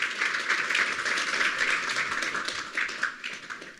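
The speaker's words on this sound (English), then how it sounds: "Join me in applauding our panelists." A symposium audience gives panelists a sustained round of dense, even applause at moderate distance that tapers slightly near the end.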